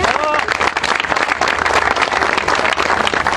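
Audience applause at a formal public ceremony welcoming officials, a loud, close, rapid stream of many hands clapping, with crowd voices mixed in beneath.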